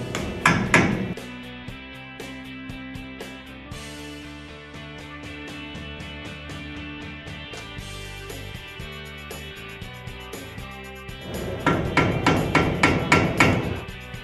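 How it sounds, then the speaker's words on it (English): Hammer taps bending the dust shield tabs over a hex bolt while a 1964-1972 GM A-body disc brake kit is fitted. Bursts of rapid metallic strikes come at the start and the end, with background music in between. "Now it's time to bend the dust shield tabs over the hex bolt on the top bolt."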